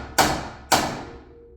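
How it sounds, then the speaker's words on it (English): Two sharp metallic hammer strikes on a car's castle nut, about half a second apart, each ringing out and decaying, loud and close. "I'll just take a hammer and give it a couple hits."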